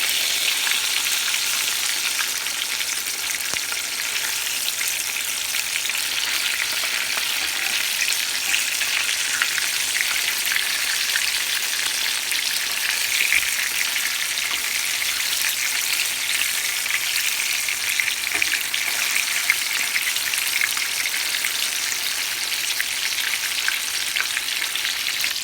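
Crispy chicken tenders deep fry in oil with a loud, even, continuous hiss and crackle, close by and unbroken for the whole stretch, with no voices.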